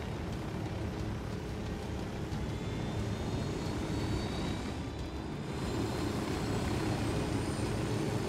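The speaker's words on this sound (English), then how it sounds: "I'm in a chopper." A helicopter in Ghost Recon Wildlands gives a continuous loud, rushing roar that stays steady throughout, with a slight shift in tone partway through and no voices.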